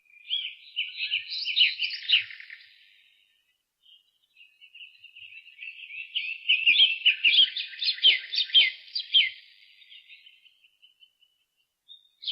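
Birds in the King's Quest III Redux game chirp in two bright, rapid bursts of high tweeting separated by a short pause, clear and alone with no talk.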